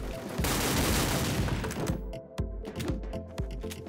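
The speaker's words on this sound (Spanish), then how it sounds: "Es una escopeta que se va muy hacia arriba." Vemper shotgun fired in WolfTeam: a dense burst of loud gunfire and booming blasts fills the first two seconds, then several sharp, separate shots with short clicks between them, close up.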